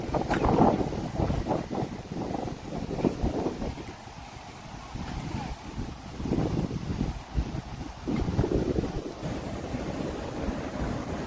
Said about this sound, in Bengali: প্রচণ্ড বাতাস প্রচণ্ড বাতাস খুবই ভালো লাগছে এত বাতাস